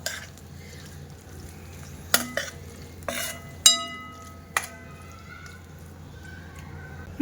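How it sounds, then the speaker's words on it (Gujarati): Guvar (cluster) beans with mustard seeds and cumin stirred in a pan over a slow flame: a low, steady frying hiss broken by about five sharp metallic clinks and scrapes of a spoon against the pan. "ગુવાર, રાઈ, જીરું સહિત બધું ઉમેરી દેવું અને મિક્સ કરી લેવું"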